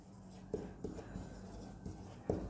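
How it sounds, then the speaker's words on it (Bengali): Pen or chalk strokes writing by hand during a classroom-style Bengali lesson: a series of short, irregular taps and scratches spaced across a few seconds, close and fairly quiet with no speech over them. "আমি লিখে দিচ্ছি"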